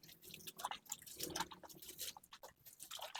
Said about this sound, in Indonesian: Nah, itu disiram-siram